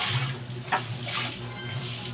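Water running from a tap during washing, a steady close splashing flow with slight gurgles and surges, continuous over a low hum.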